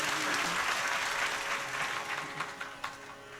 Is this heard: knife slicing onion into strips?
no